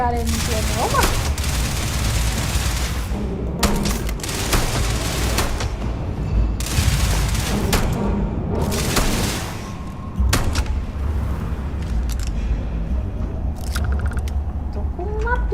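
Pistol gunfire in the video game Starfield, with repeated sharp shots and bursts of fire across a busy combat soundscape, under a player talking over the action.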